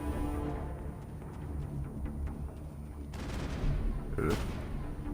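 Gunfire in the video game Mass Effect: scattered shots and a couple of louder bursts crack over a steady rumbling battle backdrop, with no one talking.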